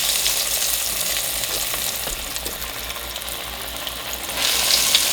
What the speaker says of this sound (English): Now we're gonna go ahead and fry up the fish.